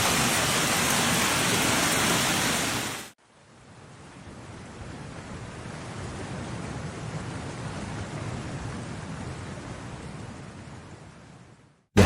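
Heavy, dense rain with hail roars continuously in Paris, dropping off sharply for a moment before a steady downpour with gusty wind resumes.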